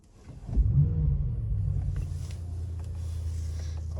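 A Mercedes-AMG E63 S V8 cold-starts with a sharp crank and loud flare of revs, then settles into a deep, rumbling idle close by.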